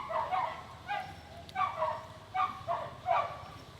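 At a winter campsite, dogs give a series of soft, short yips and whiny vocal bursts, about six in quick succession, fairly faint and close by.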